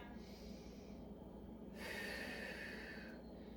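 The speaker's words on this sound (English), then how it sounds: "One more deep breath." During a shoulder stretch, a slow deep breath is drawn in and then released through the nose, soft and close, heard alone in a quiet room.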